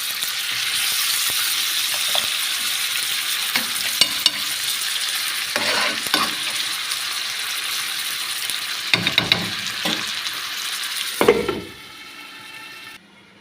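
Potatoes and onion frying in a pan, a loud steady sizzle running throughout with occasional stirring scrapes and clinks, quieting near the end.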